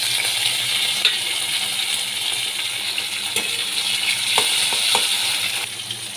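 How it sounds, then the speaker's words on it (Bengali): Onions, green chillies and chopped tomatoes fry in a pan with a steady, loud, dense sizzle, broken by a few brief clinks and scrapes of stirring. "পেঁয়াজগুলোকে ভালো করে ভেজে নিচ্ছি।"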